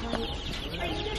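Baby chicks cheep in a steady chorus of high, bird-like peeping that runs the whole time, close and fairly loud amid busy background noise.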